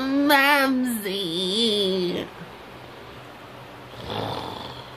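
A man's exaggerated, theatrical snoring: a long rattling inhale that wavers in pitch, then a short break and a fainter second breath near the end, loud and close with no other talk.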